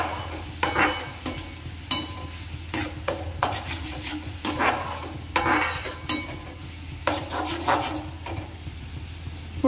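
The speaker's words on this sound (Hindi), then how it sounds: "भूनते भूनते हमारा मसाला थोड़ा सा तेल छोड़ने लगा है" Masala for rajma fries in oil while a spoon stirs and scrapes the pan in irregular strokes over a steady low sizzle, close and alone with no talk.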